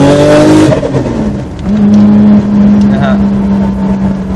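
A turbocharged custom car engine revs hard and loud, rising then holding a steady drone, while someone talks over it.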